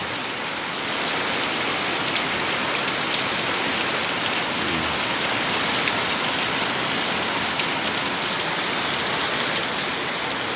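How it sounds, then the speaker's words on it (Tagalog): Heavy, steady monsoon rain pours down in a dense, constant hiss with no pauses, loud and close, with no voices. "Yan po ang ulan dito sa amin."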